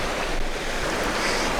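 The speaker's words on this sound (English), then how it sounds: "There's the sound of the water I'm hearing." Rushing water from a small waterfall on a hiking trail near Santa Barbara, a broad steady roar with some wind noise, continuous throughout the short stretch.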